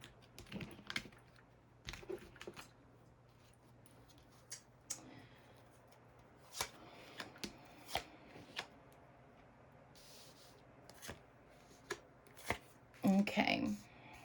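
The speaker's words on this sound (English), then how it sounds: "I'm going to shuffle one more time and split them up" Tarot cards are shuffled in repeated quick riffling bursts, crisp and close, separated by short pauses, with a louder flurry of card handling near the end.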